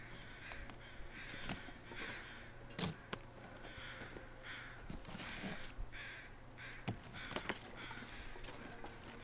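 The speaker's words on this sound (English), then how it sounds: "you hear all the crows and stuff" Crows cawing repeatedly in the winter wilderness of the survival video game The Long Dark, a scattered series of sharp calls over steady ambient wind and hum, fairly quiet and with no talk.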